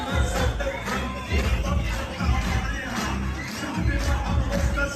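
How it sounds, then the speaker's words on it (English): An audience of mothers cheering for children at a celebration, a dense roar of crowd noise and babble with rhythmic pulses, fairly loud and continuous throughout. "We got their mothers cheering for them"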